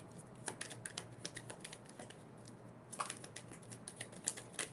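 Tarot cards being shuffled by hand, a quiet, irregular run of soft papery riffles and flicks over a low steady background hiss, with no talking.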